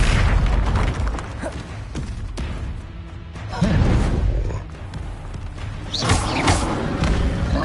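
Bombarda explosion spells going off in the video game Hogwarts Legacy, heavy booming blasts with thuds and crashing debris, loud and close, several bursts in quick succession over a busy game soundscape.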